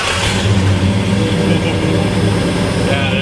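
A lifted 1995 Ford F250 engine runs after a cold start, a loud, steady, rough roar with a broadband hiss, heard up close without pause.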